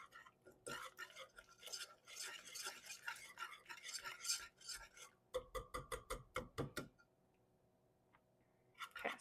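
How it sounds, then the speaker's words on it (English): A whisk beats the hot chocolate cookie batter in a bowl, first in a busy scraping swirl, then in a fast run of sharp taps against the side, then stops before a brief final clatter. "we'll just kind of whisk that in"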